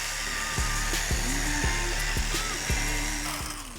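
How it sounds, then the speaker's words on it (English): A power polisher works plastic truck headlight lenses clear, its steady motor whine running continuously with repeated low thumps as the pad is pressed and shifted against the lens, close and fairly loud with no voices. "polish it out with a polisher until the plastic is clear"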